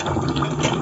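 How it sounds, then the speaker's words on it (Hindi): Water from a glass pours into spiced meat in a cooking pot for haleem, a steady close gush and splash that runs without a break for under a second. "अब इसमें हम डाल देंगे 1 गिलास पानी"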